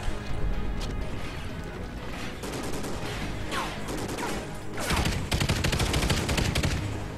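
A light machine gun firing in Call of Duty Ghosts: dense, rapid bursts of automatic gunfire with crashing impacts, loud and sustained, growing heavier toward the end.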